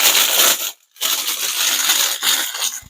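Crinkly rustling of a heat-resistant oven bag being handled and opened for roasting a lamb's head with vegetables, close and loud in bursts with a brief pause.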